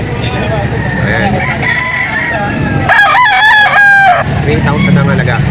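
Roosters crowing at the Lipa auction market, with several loud, close crows and clucks over a busy background and some talk.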